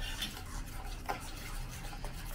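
A spoon stirs vegan banana batter mixed with soy milk in a bowl, making a soft, steady, close scraping and swirling sound with slight clinks, with no talk over it.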